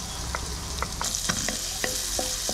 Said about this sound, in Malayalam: അതിലേക്ക് നമ്മൾ ചെറുതായിട്ട് അരിഞ്ഞ് വെച്ചിട്ടുള്ള ഉള്ളി ചേർക്കാൻ പോണ്.